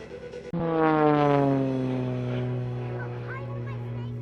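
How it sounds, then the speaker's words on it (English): An Extra 330SC aerobatic aircraft hovers almost stationary in front of an air display crowd, its engine roaring loud and steady with a strong propeller drone that holds and then slowly eases in pitch. "So she's using the engine to just hover in almost no forward flight whatsoever"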